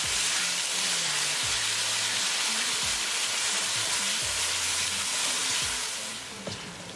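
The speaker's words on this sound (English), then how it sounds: "We're going to cook tomato sauce with tadka for 1 minute." Tomato sauce with tadka sizzles hard in a pan, a dense, close hiss with low scraping stirs mixed in, easing off slightly at the end. Nobody talks.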